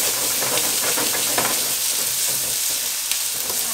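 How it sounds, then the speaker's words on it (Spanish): Tomatoes fry in oil in a pan as a base for mole, giving a dense, loud, continuous sizzle and hiss with faint stirring scrapes. The sound is close, and no one speaks over it. "Ahí voy a incorporar los jitomates, que se tosten también un poquito, que se acitronen."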